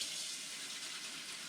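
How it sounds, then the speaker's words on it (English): Dusty RV air conditioner filter rinsed under a running tap, a steady, close splashing rush of water that holds evenly with no pauses and no talk. "run them under water"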